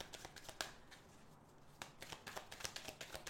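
Tarot cards shuffled and cut by hand, a quick run of crisp riffling flicks and taps close by, a short pause mid-way, then more rapid shuffling with no talk.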